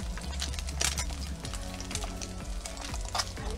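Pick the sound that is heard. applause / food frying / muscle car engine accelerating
food frying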